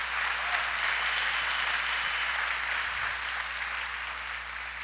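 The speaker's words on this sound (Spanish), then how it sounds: "¿Por qué no le da un aplauso fuerte a Dios?" A church congregation applauds during a sermon, a steady broad wash of clapping from a sizeable crowd that continues evenly throughout, heard at a moderate distance without any voices over it.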